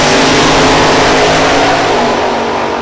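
A drag racing car at Kil-Kare Dragway revs hard, a loud, close, sustained engine roar filling the whole stretch with no voices.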